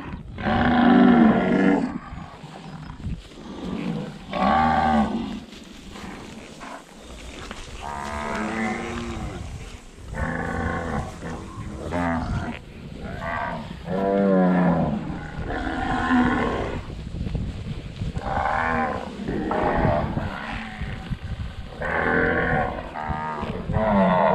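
Cows in a pasture giving a string of loud, drawn-out moos, one after another with short gaps, close by and with no talking.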